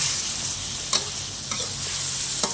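Sweet and sour shrimp stir-fried in a pan, with a steady close sizzle and a few sharp scrapes and clinks of the spatula, and no voices.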